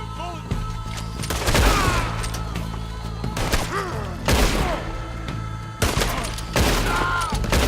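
Gunfire rattles through a Western-style video game shootout, with repeated loud shots and booming cracks overlapping in dense volleys, close and continuous with no talking.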